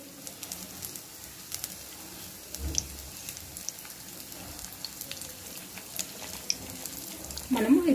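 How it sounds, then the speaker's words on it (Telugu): Stuffed capsicum bajji fry in a pan of hot oil, giving a soft, steady crackle and sizzle with scattered pops, fairly quiet, with a brief louder clatter near the end. "మంచి బ్రౌన్ రంగు వచ్చేంత వరకు ఫ్రై చేసుకోవాలి"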